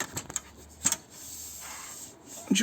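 Legs of a Fiamma F45s awning rattle and clip into place: a few sharp plastic-and-metal clicks and knocks, separated by a soft scraping rub, close by.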